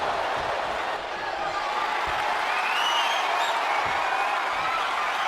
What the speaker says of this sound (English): The crowd is on their feet, sensing the momentum has shifted decisively in Howdy's favor.